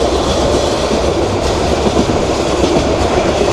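A passenger train runs from Dhaka toward Mohonganj with a loud, constant rumble heard from inside, its wheels clattering in a steady clickety-clack rhythm and no voices.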